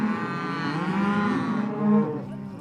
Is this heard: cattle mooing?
yes